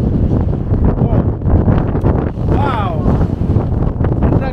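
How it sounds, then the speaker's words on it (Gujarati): Strong wind outdoors in the UK roars and buffets steadily and loudly against the microphone throughout, with people talking beneath it. "કાંક એવો છે પવન"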